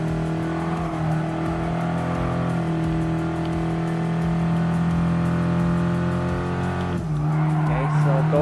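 An Abarth 500 small compact car racing in Gran Turismo Sport, its steady engine drone and tire squeal shifting as it brakes near the end, with someone talking over it.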